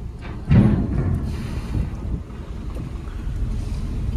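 Boarding an M2M ferry on the Alibaug–Mumbai crossing, with a loud steady rumble of engine, wind buffeting and sea water running throughout, close and continuous.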